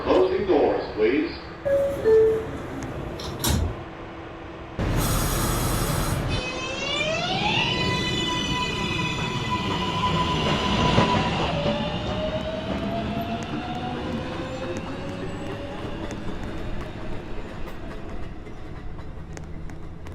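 A Manhattan-bound NYC 2 subway train starts out of a station, its motors whining upward in pitch through a steady, rising rumble after a burst of door and brake noise, with an announcement voice early on.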